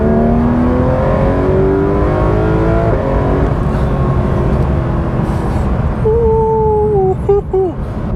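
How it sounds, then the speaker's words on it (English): Porsche 911 GT3 RS pulling hard through third gear, engine note rising steadily and loud, with a short sharp flutter and dip near the end as revs peak. "I'm gonna go ahead and do a 3rd gear pull and see how this feels."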